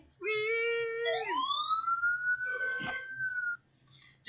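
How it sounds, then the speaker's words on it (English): A siren sounding, a rising, sweeping wail with strong harmonics that holds a high pitch before cutting off, fairly close, with a short rough burst mixed in midway. "The siren is not Gordon's burp"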